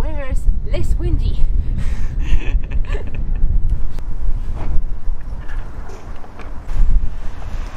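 Strong outdoor wind buffets the microphone with rough, low rumbling gusts that rise and fall, while a person talks throughout.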